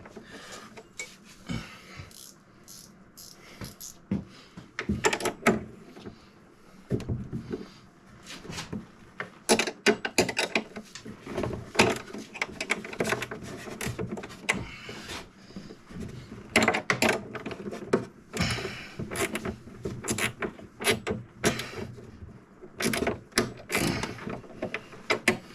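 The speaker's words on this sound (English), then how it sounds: "this is where a ratcheting wrench comes in handy" A ratcheting wrench tightening a saddlebag bracket on a Harley-Davidson Softail during a Hogworkz saddlebag conversion, with repeated quick clicking bursts, metallic rattles and intermittent clunks, close and fairly quiet, with no voices.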